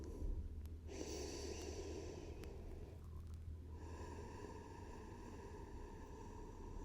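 Slow, deep breathing during a floor yoga stretch, heard alone as soft, steady airy inhales and exhales over a constant low background hum.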